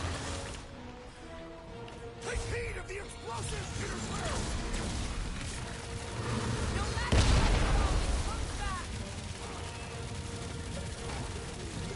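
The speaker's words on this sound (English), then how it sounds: "Take heed of the explosion!" A burst in the Guardians of the Galaxy game in the middle of combat against Lady Hellbender, booming loud near the middle with a sharp broadband blast, set against a busy bed of game effects and music.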